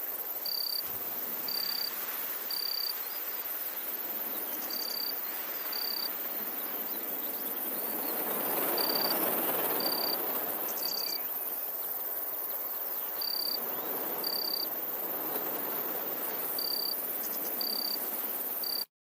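Crickets chirp in a meadow edged with trees, giving short, regular high pulses over a continuous faint insect drone, while a soft wind rush through the trees swells and fades underneath.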